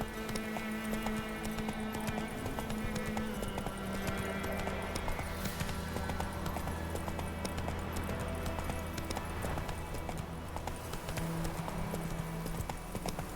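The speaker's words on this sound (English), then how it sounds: "Whoa there, Roach." Roach, the horse in The Witcher 3 video game, gallops with steady rapid hoofbeats under a constant bed of game music and ambience. The sound stays even and moderately quiet throughout.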